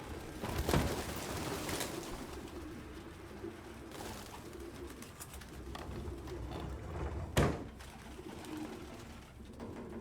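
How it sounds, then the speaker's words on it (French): Pigeons coo in the Detroit: Become Human video game, soft low repeated cooing mixed with a few brief louder bursts of fluttering or movement, with no talk. "Ah, il y a des pigeons ou pas?"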